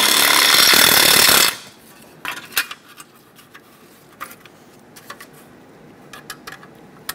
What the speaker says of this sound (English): It's a very soft metal, so you can just drill right through it.